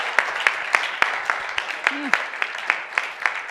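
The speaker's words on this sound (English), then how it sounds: "this applause is again for you" Scattered audience applause closes a transport conference session, distinct claps pulsing in a loose rhythm, with a short voice sound midway.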